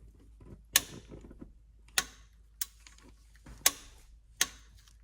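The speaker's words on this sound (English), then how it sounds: "Tighten the bolt to 36 foot-pounds using a torque wrench." A torque wrench tightens a transmission drain bolt on a Honda CR-V Hybrid, giving five sharp, isolated clicks spaced about a second apart over faint shop background.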